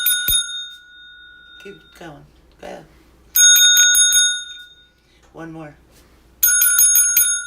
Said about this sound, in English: I have to ring the bell.